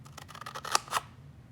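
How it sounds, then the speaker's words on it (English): Scissors snipping along the edge of a paper viewfinder shape, a few quick, close, quiet cuts with two crisp snaps near the end. "you're going to take that now and cut on that edge"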